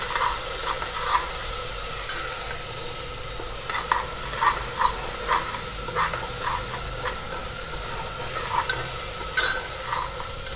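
Sliced onion with salt and ginger-garlic paste fries in an Indian home kitchen pan, a constant sizzle overlaid by repeated close scraping strokes of a spoon stirring at an irregular rhythm.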